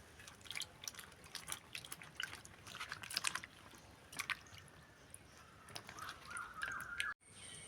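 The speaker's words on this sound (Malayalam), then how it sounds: "ഇത് വെറുതെ വെള്ളത്തിൽ കഴുകി അഴുക്ക് കളഞ്ഞെടുത്തിട്ടാണ് നമ്മൾ ഉടക്കുന്നത്." Kudampuli (Malabar tamarind) is rinsed in water before being made into pickle, with quiet sloshing, dripping and soft squishing handling sounds, close and intermittent.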